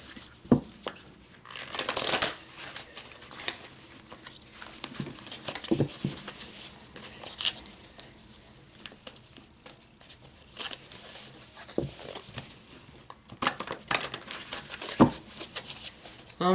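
Large tarot cards shuffled by hand in repeated bursts of soft riffling and slapping, close and fairly quiet, with pauses between shuffles.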